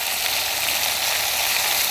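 Onions sautéing in a kadai for a village-style curry, heard as a loud, steady, close-up hiss and crackle of frying oil with no break.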